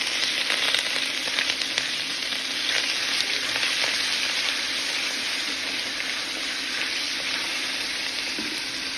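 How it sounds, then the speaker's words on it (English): About a pound of ground meat browns over medium-high heat, sizzling and crackling steadily in a hot pan, a continuous loud frying hiss with occasional small pops, no talking. "we're gonna go ahead and just brown this meat"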